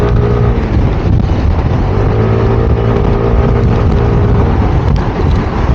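An SYM Cruisym Alpha 125 scooter is being ridden on the road. Its engine drones loud and steady, with heavy wind rush over the microphone throughout and no speech.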